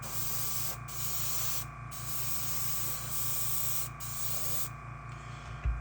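A Paasche VL5 airbrush sprays a white base coat in a steady close hiss, cut by a few brief pauses and ending abruptly, with a low mechanical hum underneath.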